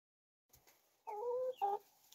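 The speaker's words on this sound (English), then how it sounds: "We got a new rooster." A new rooster on a Namibian food forest homestead gives a short, faint crow in two rising bursts, with a couple of soft clucks before it and no other sounds around.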